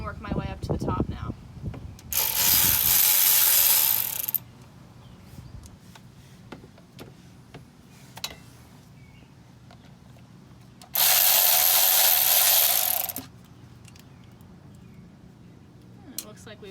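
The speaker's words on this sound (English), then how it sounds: "I'm going to go back with that cordless ratchet and work my way up to the top now" A cordless ratchet buzzes in two loud bursts of about two seconds each, removing the bolts on a truck's front differential cover, with quieter clanks and handling sounds between runs and a person talking early on.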